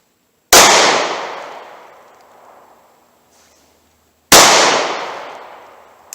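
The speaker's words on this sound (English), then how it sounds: "as soon as I think I can hit the headshot on that target, I will fire off a shot" Two sharp, loud 9mm pistol shots at a target, several seconds apart, each a sudden crack followed by a long echoing decay outdoors, with no talking.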